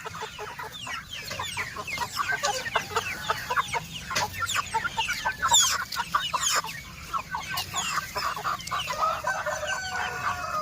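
Many free-range meat chickens cluck and squawk continuously at close range, a busy overlapping chorus of short calls with occasional louder cries and no talking.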